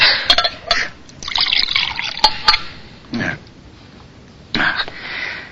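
Water from a pitcher splashes and trickles in a few short bursts, with pauses between pours and faint room sounds under it, close by and moderately loud.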